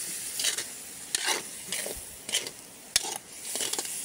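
Pancit noodles with soy sauce are stirred in a pan, giving intermittent scraping strokes and soft sizzling bursts at a steady, close rhythm.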